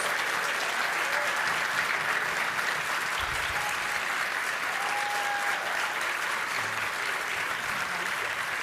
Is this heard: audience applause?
yes